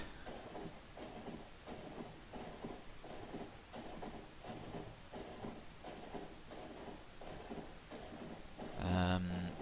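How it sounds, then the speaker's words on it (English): A Factorio train driven by eight locomotives rolls along in a steady, rhythmic clatter of repeating pulses, faint and continuous, with a brief louder tonal blip near the end. "nice to see that this train gets up to speed fairly quickly with its 8 engines"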